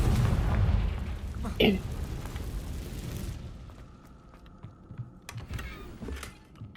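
In the Hogwarts Legacy video game, a Confringo explosion spell goes off with a heavy, rumbling boom that fades into a low tail, followed by quieter thuds and clicks.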